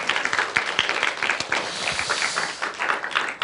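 Applause from a church congregation at a Friday worship service, a dense steady clapping that fills the room throughout, close and fairly loud with no talking over it.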